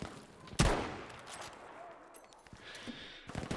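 Battlefield V game gunfire: one loud sharp rifle shot near the start, then quieter distant shots and clatter, ending in a burst of fainter firing, with game voices and effects in the background.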